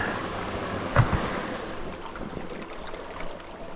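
A river flows steadily along a pathless mountain valley, a continuous rushing wash of water, moderately close, with a brief knock partway through and some wind.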